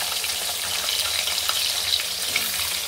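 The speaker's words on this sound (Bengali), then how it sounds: "ওই একই তেলে, মাছ ভাজার তেলে আলুগুলো ভেজে নেব।" Long-cut potato sticks sizzle steadily in hot oil left over from frying hilsa fish, a dense, continuous crackle close by with no voices.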